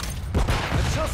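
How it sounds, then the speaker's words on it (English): A grenade goes off in a Call of Duty multiplayer match as a brief, dull boom with rumbling debris, heard up close in the middle of game noise. "Grenade out!"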